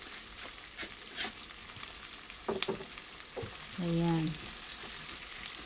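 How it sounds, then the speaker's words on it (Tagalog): Onions hit hot oil for beef menudo, a soft frying crackle with a few scrapes and stirring clatters; a voice speaks briefly and a low tone sounds near the end. "So, ilagay na natin yung ating sibuyas."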